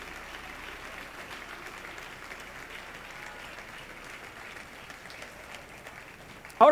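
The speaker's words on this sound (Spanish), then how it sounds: "Yo le daría un aplauso al Señor, aleluya, y adoraría su nombre" A church congregation applauds during a worship service, giving steady, sustained clapping at a moderate, even level that swells into a louder burst at the very end.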